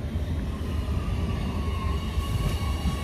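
A train rumbles at a station in a steady, continuous low roar with a light hiss, fairly close and without voices.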